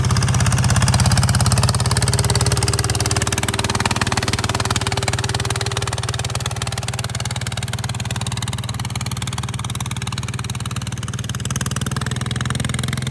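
A motorcycle engine bored up from 140 to 155cc runs steadily throughout, a loud continuous low rumble with mid-range mechanical clatter, holding a constant idle-to-light-rev tone without pauses or voices.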